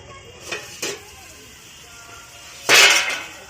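A spoon scrapes and clanks against a pot while stirring rohu fish curry with drumstick and potato: two quick light knocks, a quiet pause, then a louder, longer scrape.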